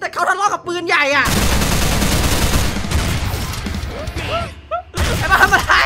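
Heavy, rapid booming blasts like cannon fire in a game, loud and sustained, with voices talking briefly before and after the barrage.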